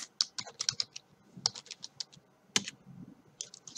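Keys clatter on a computer keyboard in quick irregular bursts of clicks, with short pauses and a few harder strikes, close and clear with no voice.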